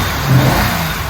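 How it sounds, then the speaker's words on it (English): Engine of a BMW E30 with a patched exhaust clamp and a freer-flowing air filter, revving steadily and loudly up close in a continuous mid-pitched drone. "It revs a little happier."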